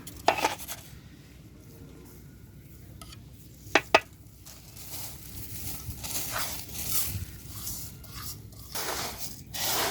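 Granular herbicide mixed into a paste by hand in a container gives soft gritty rustling and stirring, with a few sharp clinks of the vessel near the start and middle, close and moderately quiet.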